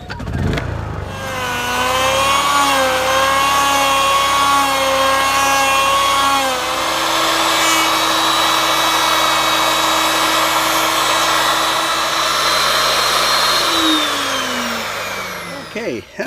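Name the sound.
power tool boring a hole in a wooden skid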